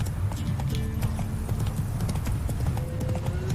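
Horse galloping in The Witcher 3: Wild Hunt video game, a loud, close, continuous drumming of hoofbeats at a fast, even pace, with no talk over it.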